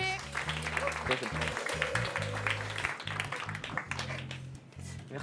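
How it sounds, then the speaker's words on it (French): An audience in a hall applauds a student with dense, steady clapping that continues throughout, while a voice and music play over it. "S'il vous plaît, on peut l'applaudir bien fort."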